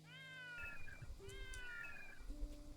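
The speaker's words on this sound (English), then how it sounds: "I really want to know whose cat they recorded for that sound." A cat meows several times in the Salt-Iron War video game, drawn-out and clear, close and prominent over a low steady background sound.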